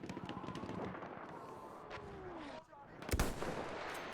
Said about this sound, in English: he's over there with a heavy or a medium machine gun just going to town